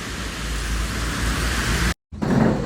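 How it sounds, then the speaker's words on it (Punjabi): Steady rain falls as a dense, even rushing hiss, close and fairly loud, cut by a brief dropout to silence before it resumes. "ਖੂਬਸੂਰਤ ਮੀਂਹ ਦਾ ਨਜ਼ਾਰਾ"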